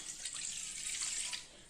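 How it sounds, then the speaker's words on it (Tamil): Water from a single tumbler is poured into a cooking pan while ravai appam is being made, giving a steady, close splashing pour that lasts about a second and a half and tapers off at the end. "வானொலி வச்சுட்டு இந்த 1 டம்ளர் தண்ணியை ஊற்றிக்கலாங்க."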